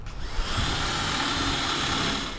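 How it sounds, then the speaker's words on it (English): A power drill bores through the steel bed of a 1950s American pickup truck for bolt holes, a steady loud whine and grinding that runs without a break for the whole stretch. "While Sam drills through and fits the bolts, Guy is tightening them under the bed."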